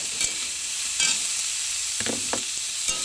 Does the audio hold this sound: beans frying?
yes